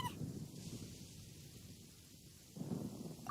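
Thunder from a storm in the video game Genshin Impact rolls in as faint, low rumbles, one at the very start and another swelling near the end, with quieter murmuring between.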